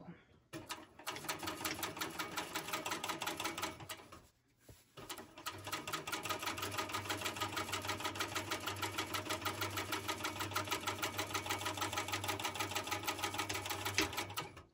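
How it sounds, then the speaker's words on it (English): A sewing machine top stitches the pocket of a bucket bag, running in a fast, even mechanical clatter that pauses briefly partway through and then resumes at the same steady pace, close and loud. "we're top stitching on this so that we can keep the seam allowance down"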